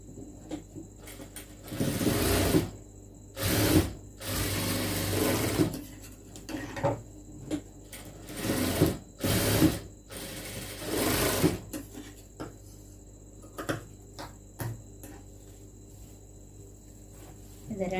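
A sewing machine stitches churidar lining pieces in loud bursts of rapid whirring, stopping and starting several times with quiet pauses between runs, and faint talk in the quieter gaps.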